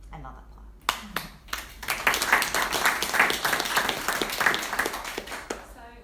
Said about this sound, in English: So another clap